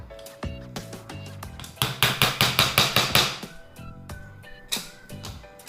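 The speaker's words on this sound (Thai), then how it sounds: "ต่อไปก็เป็นชิ้นที่สี่ค่ะเราก็เจาะมุมซ้ายเหมือนเดิมค่ะ" Sharp taps pierce a hole in the corner of a small sheet cut from a soda can, made for a pinwheel, with a quick run of about ten close, evenly spaced strikes among a few scattered knocks.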